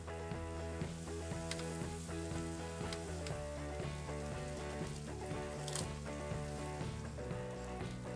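Poblano peppers and red onion sautéing in a pan, a soft continuous sizzle with light stirring under steady background music, no talking.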